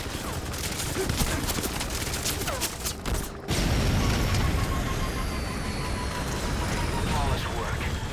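Enemy gunship opening fire in Metal Gear Solid V: The Phantom Pain, a dense, continuous rattle of rapid gunfire and booms with a brief cutout midway, loud and close, with a faint rotor-like drone underneath.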